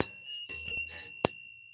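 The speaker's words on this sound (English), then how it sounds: "I've been putting up as many of the hang bells as possible in the bus" Small hanging bells, of the fair-game prize type, strung up inside a tiny bus give a few bright, thin tinkles and one sharper ring near the end, close by and fairly quiet, with no voices.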